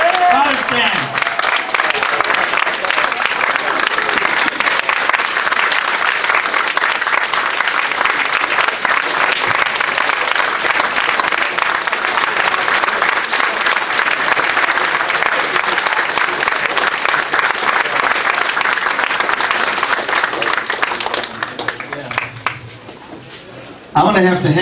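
Sustained, loud applause from a large church parish audience giving Father Stan a standing ovation, dense clapping holding steady for about twenty seconds before tapering off near the end.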